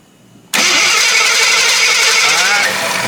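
Jeep engine left sitting for 25 years, cranking after a quiet moment, then a loud, steady mechanical churning up close that continues for a few seconds.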